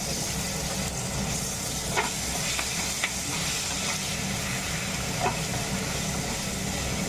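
Potatoes with turmeric in a pan give off a steady hiss and sizzle, and a few light scrapes and knocks mark the stirring, close by and with no speech.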